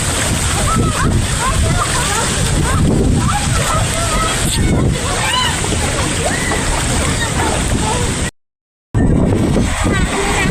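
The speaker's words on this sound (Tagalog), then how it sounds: "Ayan, falls na Tupinga River." Rushing water at the Tupinga River falls, a steady loud broadband roar with splashing and sloshing that fills the whole stretch, briefly cut out near the end, with no talking over it.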